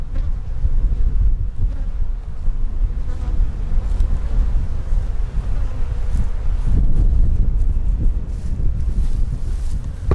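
Honeybees swarming around an open hive, a dense continuous low drone mixed with wind rumble against the microphone, close and fairly loud, no talking.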